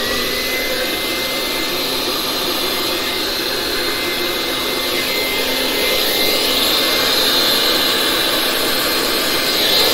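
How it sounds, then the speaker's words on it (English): An air blow dryer blows on poured resin in a Dutch pour painting, giving a continuous loud broadband whoosh that swells slightly partway through and keeps going steadily without pauses. "this air blow dryer is not doing a good job of blowing it"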